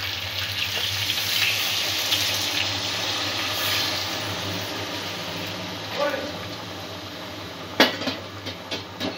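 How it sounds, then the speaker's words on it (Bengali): Water pours into a pan holding spiced potato, pointed gourd and rice, a steady gushing wash lasting several seconds, followed by a few light clinks of utensils near the end. "এবারে পরিমাণ মতন জল দিয়ে দেবো"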